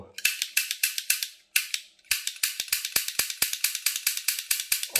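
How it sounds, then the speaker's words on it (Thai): A toy cap gun, freshly assembled with its grip fitted, is dry-fired with no caps loaded. It gives rapid, sharp mechanical clicks in a fast rhythmic series with one brief pause, loud and close. "ทีนี้เราก็ทำการลองทดสอบ ใส่ด้ามมัน ลองยิงเปล่าๆดู"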